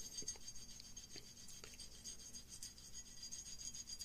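Surface rust is rubbed off a firearm with a fine abrasive, a faint continuous scratchy rasping with light back-and-forth strokes, close and quiet.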